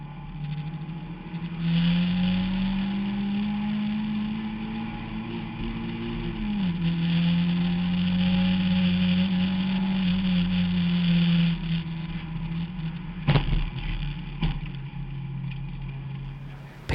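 Front-wheel-drive compact stock cars roaring at Winchester Speedway on a restart, a blended engine drone rising and shifting pitch as the pack passes, with a couple of sharp knocks late on and no voices.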